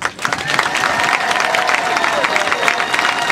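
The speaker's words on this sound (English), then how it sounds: "give a big round of applause to Larry Hufford, his wife Kathy, and my mom" Audience at a LifeStyle Homes Extreme Makeover: Home Edition event clapping in dense, steady applause from a crowd nearby, with some cheering mixed in.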